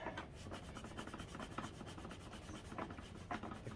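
A scrub pad's abrasive side soaked in 91% alcohol is rubbed over a vacuum part on a Bissell/Singer 3510 upright, a steady close, raspy scrubbing with irregular back-and-forth strokes.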